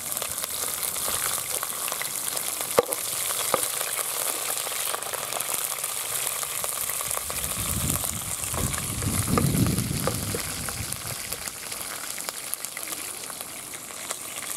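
Green chili frying in a pan for vegetable upma gives a steady, even sizzle that runs the whole time, swelling slightly midway, with a few faint clicks.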